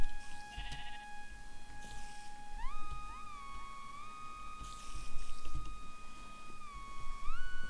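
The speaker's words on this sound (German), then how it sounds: "Schaf." Sheep in the Minecraft Voltz modpack give several short bleats spread across the stretch, over steady tonal game sounds and low background noise.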